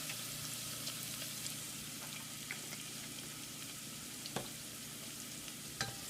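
Vegetables for a spicy corn chowder, seasoned with salt and pepper, simmer in a pot as a faint, steady bubbling hiss with a few soft pops and ticks. The sound is quiet and even, with nobody speaking.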